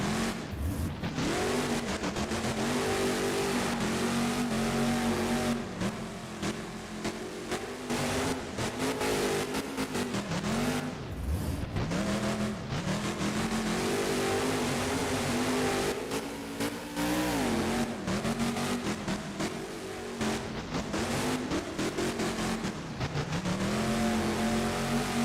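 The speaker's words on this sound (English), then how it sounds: "And as you can tell by his throttle rhythm, Ryan Anderson is not happy." Monster truck engine in BeamNG.drive during a freestyle competition, throttle revved repeatedly in an uneven rhythm, loud and continuous for the whole stretch with rising and falling pitch.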